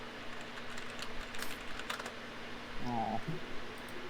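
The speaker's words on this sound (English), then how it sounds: "I'm sorry if you guys hear my typing" Quiet computer keyboard typing, a scatter of soft clicks near the mic under a low steady hum, with a brief faint tonal sound partway through.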